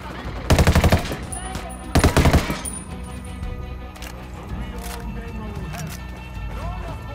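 Gunfire in the Ghost Recon Wildlands video game during a cartel ambush: two sharp bursts of rapid automatic fire, each lasting under a second, loud and close, followed by lower-level game ambience and scattered mechanical sounds.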